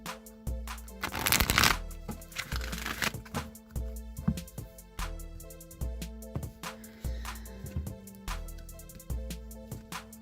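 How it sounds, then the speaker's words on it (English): Wisdom of the Oracle card deck shuffled by hand in a few bursts of quick riffling and soft slapping card sounds, close and clear over a faint steady background hum, with no talking. "I'm going to shuffle the Wisdom of the Oracle deck a few times"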